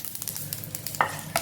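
Mustard seeds, urad dal, cumin and dried chilies sizzle in hot oil in a pan as they are stirred. The close, steady frying crackle has a couple of sharper spatter pops and no voices.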